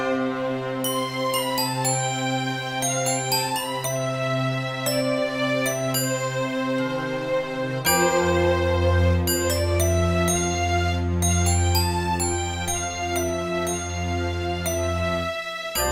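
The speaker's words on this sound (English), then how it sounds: "this one, Glockenspiel and Strings 1" The Glockenspiel and Strings 1 patch from the iSymphonic Boato soundpack plays bright, ringing glockenspiel notes in a tinkling melody over sustained string chords that shift partway through, loud and with no voices.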